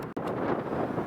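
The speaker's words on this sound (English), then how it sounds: "A little windy." Wind buffets the microphone in a steady, rushing roar, broken by one brief dropout near the start.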